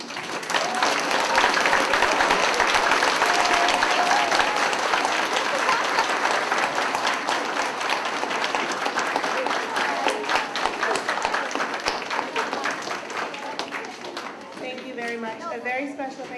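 Middle school students who presented eighth grade capstone projects receive a long round of audience applause, loud and dense at first, then gradually thinning with scattered claps and voices as it winds down.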